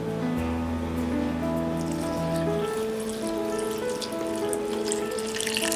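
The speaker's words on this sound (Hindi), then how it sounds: "हम इसमें थोड़ा पानी डालेंगे।" Water pours steadily into a mixer grinder jar of bitter gourd, a rising trickle over soft background music, growing brighter and splashier toward the end.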